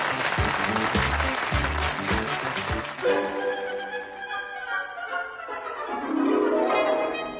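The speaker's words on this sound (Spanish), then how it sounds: "creo que nos merecemos un aplauso." Audience at a meeting clapping in a short burst of loose, scattered claps that fade after about three seconds, leaving a sustained musical tone that rises toward the end.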